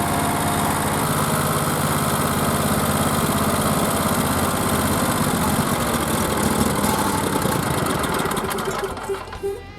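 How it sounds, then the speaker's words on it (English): A Generac GP17500E portable generator runs with a loud, steady engine drone, then begins winding down near the end as the fuel supply is cut off. "now I will shut the fuel supply off and let it shut down on its own."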